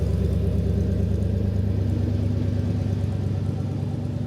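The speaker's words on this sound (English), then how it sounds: "nice sounding, nice tone on the exhaust there" Low, even exhaust burble from an idling 1977 Ford F-150 Ranger XLT 4x4 pickup, steady and near, a constant rumble with a faint whir on top.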